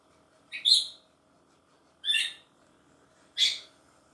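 A pet parrot named Kiwi gives three sharp, high squawks spaced a second or so apart, close and loud against a quiet room hum.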